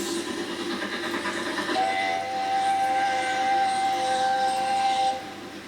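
A steam whistle sounds a long, steady tone over a rumbling train, running several seconds before cutting off near the end.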